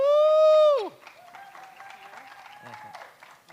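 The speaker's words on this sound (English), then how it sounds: "Keep clapping." Applause from an audience at a climate change youth ambassadors handover ceremony as a certificate recipient comes on stage; a loud whooping voice opens it, then the clapping continues softer under faint voices.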